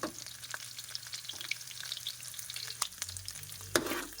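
Garlic sautés in a pan with a soft, steady sizzle, broken by occasional light stirring scrapes and taps, one louder clink near the end, and no speech.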